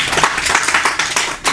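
An audience at a poetry gathering breaks into brisk, sustained applause, many hands clapping together in a dense burst.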